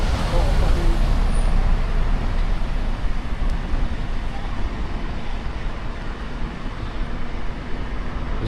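Steady road traffic rumble as cars and heavier vehicles drive in at a Huddersfield waste site entrance, loud and continuous with a brief air-brake hiss near the start.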